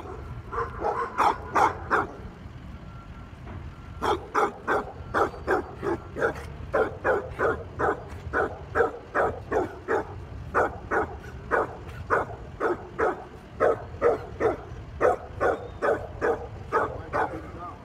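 A dog near a kennel barks in quick repeated bursts with short gaps, mixed with high whimpers and yips, loud and close, continuing steadily throughout.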